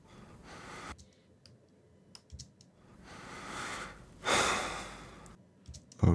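A breath effect laid into a film edit, heard as soft airy inhales and exhales separated by quiet gaps, with a louder breathy gust near the end and scattered small clicks like mouse or keyboard taps.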